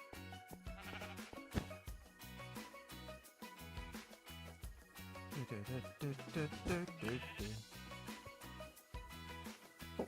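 Sheep bleat in Minecraft amid a busy run of blocky, rhythmic mechanical clunks and tones from a modded drilling machine, the wavering bleats rising in the middle of the stretch.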